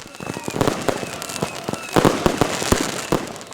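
Fireworks and firecrackers pop and bang in an irregular rapid series at a football training session, some louder bursts among crackling reports, outdoors.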